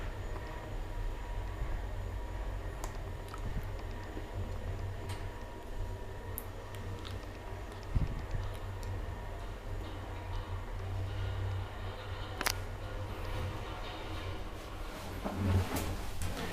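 An old Kone traction elevator in an apartment building runs with a steady low mechanical hum and rumble, with occasional clicks and clunks from the car and shaft. No one speaks.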